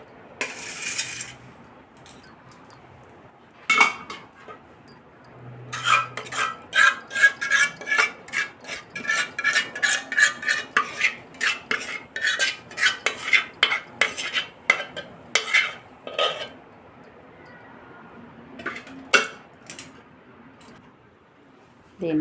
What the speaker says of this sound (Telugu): ఇంకో ప్లేట్ పెడతాను.